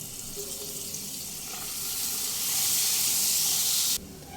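Coriander and cumin powder sizzling in a pan on low flame as a little water is added, a steady hiss that builds louder and then cuts off sharply near the end, close and without voices.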